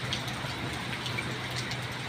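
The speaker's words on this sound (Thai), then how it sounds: "ฝนตกแป๊บเดียวน้ำขังแล้วใช่ไหมครับ" Steady rain falls during a rainy-season downpour under dark clouds, with water already pooling; a dense, even hiss of drops runs continuously and fairly loud, with no voices.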